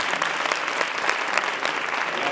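An audience at a Fuckup Nights event claps together in sustained, even applause, a dense crowd of hands that stays level for a couple of seconds.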